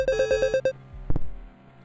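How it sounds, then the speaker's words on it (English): Electronic ringtone from a phone in a video game, a rapid run of bright repeated tonal pulses lasting under a second, followed by a brief chime and a low rumbling tail, fairly loud with no talking. "Where's that ringing coming from?"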